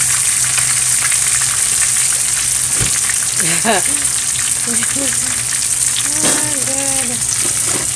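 Snapper fish frying in a pan of hot oil for Jamaican escovitch fish, a loud continuous close sizzle that lasts throughout, with people talking briefly over it.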